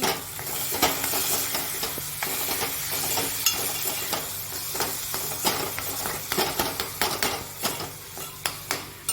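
Tomatoes with coriander, salt, chilli powder and turmeric cook in a pan, giving a steady close sizzle broken by frequent scraping stirs and clicks of the spoon against the metal, with no talking.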